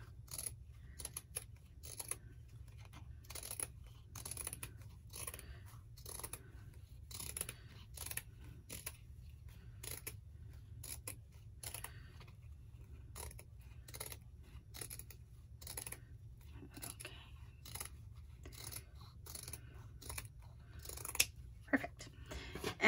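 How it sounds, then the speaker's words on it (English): Scissors make a steady series of sharp, close snips while trimming a round needlepoint canvas down to size, the cuts coming in quick irregular bursts over a quiet background. "I'm just gonna trim it down a little bit more."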